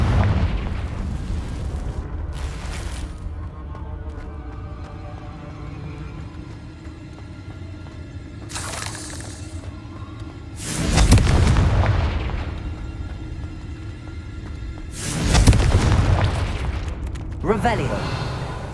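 Confringo blast spells in Hogwarts Legacy go off again and again as loud booming bursts at uneven intervals, each rising out of steady combat noise and rumbling briefly before dying away.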